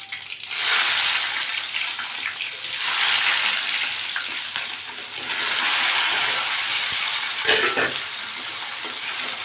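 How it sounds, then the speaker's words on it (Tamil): Shallots and chopped onion sautéing on medium heat make a strong, continuous close sizzle, with surges as the pan is stirred and a brief clatter near the end. "அடுத்து நல்லா மீடியம் ஃப்ளேமில் வச்சு ஒரு ரெண்டு நிமிஷம் நம்ம இதை வதக்கிக்கலாம்"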